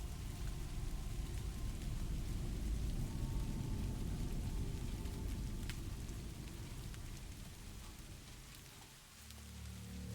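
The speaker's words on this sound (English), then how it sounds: "It was raining, foggy," Steady rain pours through a dark, foggy night, a dense hiss with low rumbling beneath, easing slightly near the end; no voices.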